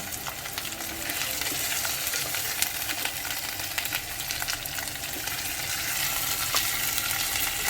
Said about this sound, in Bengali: ঢেকে দিলাম, এখন ভালো করে ভাজা হোক